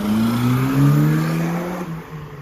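A Vauxhall Astra H 1.4 SXi with its muffler deleted revs loudly up close, the raw exhaust note rising and falling in a couple of short bursts with no talking.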